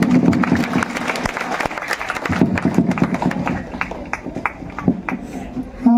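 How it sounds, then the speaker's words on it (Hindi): Scattered, uneven clapping from a school audience at a district competition exam results ceremony as a ranked pupil is called up, thinning out toward the end, with a voice cutting in briefly. "और एक बार जोरदार तालियां हो जाए।"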